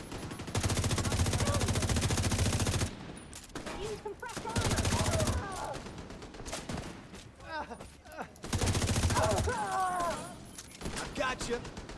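Video game gunfire comes in long, loud automatic bursts of rapid shots, broken by quieter stretches where a player talks between volleys.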